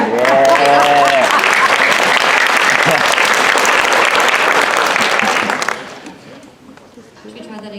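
A live studio audience at a variety show bursts into loud, sustained applause for most of the stretch, with cheering voices mixed in, before the clapping drops away near the end and a person starts talking.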